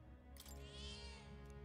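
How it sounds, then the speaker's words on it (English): A single drawn-out cat meow, close and fairly clear, rising and falling over about a second against a steady low background hum. "Don't meow at me."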